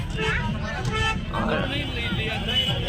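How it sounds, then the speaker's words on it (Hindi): Busy road traffic near the crowded Khatu Shyam temple at night, with a car horn tooting repeatedly close by over a steady rumble of vehicles, while a person talks throughout. "खाटू श्याम मंदिर में बहुत ज़्यादा भीड़ है और देखो कितना ट्रैफिक"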